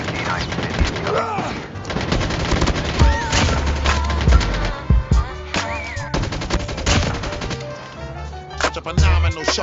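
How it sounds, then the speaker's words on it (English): Gunfire from two enemies in the mobile shooter COD Mobile: rapid automatic bursts and sharp shots crackle in repeated volleys, loud and close, with a voice talking over the action. "Wait, why are they both shooting at me?"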